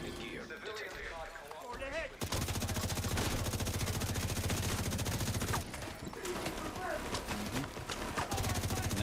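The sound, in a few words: gunfire in The Division 2 video game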